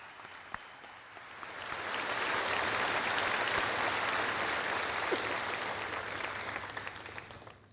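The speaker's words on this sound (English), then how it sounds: "Please join me in giving the awesome class of 2025 a round of applause for their many achievements and successes" Audience at the 2025 Mooresville High School graduation ceremony applauding the graduating class, a large crowd's clapping that swells to a dense, sustained roar in the large venue and slowly tapers off.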